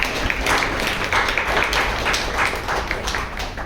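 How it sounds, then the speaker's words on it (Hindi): Applause from an audience at a social gathering training event, broad and sustained clapping from a crowd that keeps steady for several seconds and eases slightly toward the end. "इतने देर बाद भी तालियां बजी"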